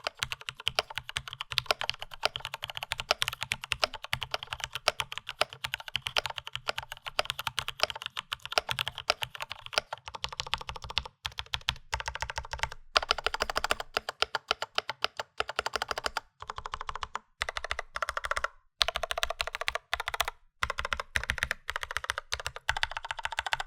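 Typing on a Class 80 top-mount mechanical keyboard, a dense, steady stream of close, crisp keystrokes clacking continuously with brief pauses near the end, no talking.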